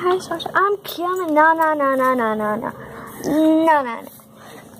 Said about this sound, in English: My dog wants to go outside, but she's not allowed.